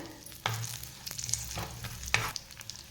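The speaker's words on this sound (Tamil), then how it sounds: "எண்ணெய் நல்லா சூடாயிடுதுங்க பட்டை லவங்கப்பூ போட்டுக்கலாம் எண்ணெயில் சோம்பு போட்டுக்கலாம்" Whole spices such as cinnamon, cloves, fennel and bay leaf hit hot oil in a pan for Chettinad chicken pepper fry, producing soft sizzling crackles and a few stirring scrapes in short bursts, close and fairly quiet, without speech.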